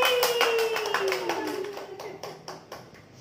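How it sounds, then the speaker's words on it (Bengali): A small group clapping hands at a birthday celebration, a quick run of sharp close claps that thins out and slows toward the end, with voices over the start. "হাততালি।"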